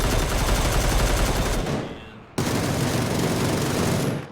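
Automatic rifle fire in PUBG on the Erangel map, aimed at a glider: loud, close, rapid bursts that break off briefly midway, then resume just as dense.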